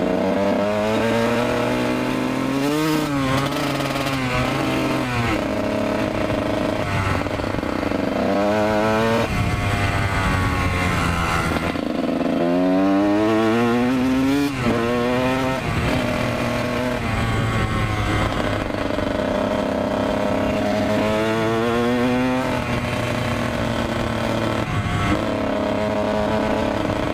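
A Kawasaki KX 125 dirt bike engine is heard on a ride, loud and close throughout. The two-stroke buzz rises and falls through repeated revving and shifting.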